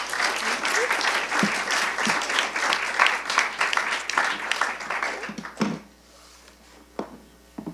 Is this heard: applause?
yes